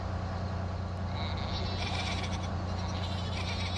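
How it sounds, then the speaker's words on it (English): Sheep blocking a road bleat faintly in the distance over a steady low vehicle rumble, a few thin calls drifting in near the end. "There are lots of sheep on the road."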